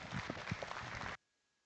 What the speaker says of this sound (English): please give these kids a nice round of applause as they exit.